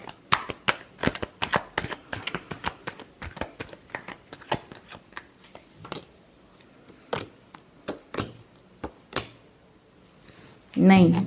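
Tarot cards shuffled by hand in a series of quick, crisp riffling bursts close by, pausing briefly around the midpoint and ending with a louder flurry, with no speech over them.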